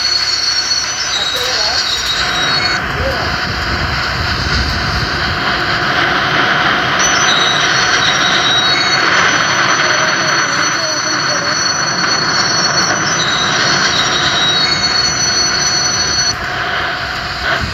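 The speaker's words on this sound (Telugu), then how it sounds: "ట్రైన్ ఆగిపోయింది" Train wheels squealing as a train brakes to a stop at a station: loud, sustained high-pitched metallic screeches ride over a constant rolling rumble for the whole stretch.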